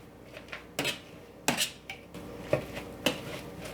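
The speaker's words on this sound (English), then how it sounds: "And just mash all this together." Sweet potatoes being mashed in a pot with butter and sour cream, giving a series of irregular knocks and scrapes of a utensil against the pot, close and moderately loud, with quiet pauses between strokes.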